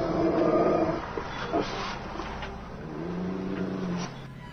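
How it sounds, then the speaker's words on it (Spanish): A dog sound effect, a dog about to attack, plays with low snarling and whimpering tones, close and moderately loud, over a rumbling background and ending in a sustained low growl. "se escuchó muy cerca de sus oídos el sonido característico de un perro a punto de atacar"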